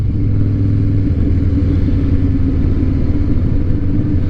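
Steady, loud low rumble of a 2007 Harley Davidson Night Train engine while riding, a continuous deep drone with no talk over it.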